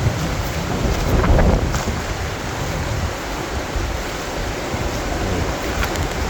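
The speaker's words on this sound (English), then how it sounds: "Beautiful little stream, fresh mountain" Steady broadband rush of a flowing mountain stream, constant and fairly loud, with no voices.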